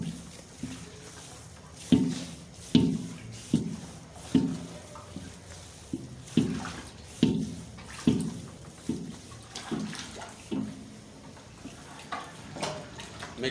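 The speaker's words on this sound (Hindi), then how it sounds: "इसमें पानी नहीं डालेंगे? डालेंगे पानी।" Cold iced water worked into a gulab jamun dough mixture with mashed potato, heard as rhythmic wet squelching pulses about once a second, close and fairly loud with no talk.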